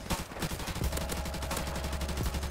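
Rapid bursts of automatic gunfire in a shooter video game, sharp repeated shots rattling continuously at moderate loudness with no talking.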